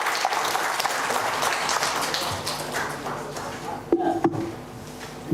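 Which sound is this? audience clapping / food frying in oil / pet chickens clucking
audience clapping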